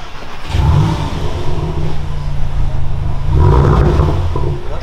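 A VW Golf 8 GTI starts up and its exhaust settles into a loud, deep, steady rumble close by, swelling again toward the end with no talk over it.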